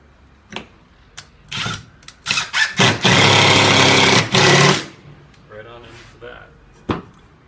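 A drill drives a 1 5/8-inch drywall screw into a wall in short bursts and then one long whirring run, close and loud, with brief speech between bursts.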